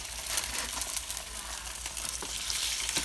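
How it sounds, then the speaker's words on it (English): Salmon fillet frying skin-side down in a hot pan, crisping with a dense, continuous sizzle and spatter, close and steady, with faint crackling pops scattered throughout and no talking. "We're gonna go ahead and drop our salmon right now. We want that nice crisp."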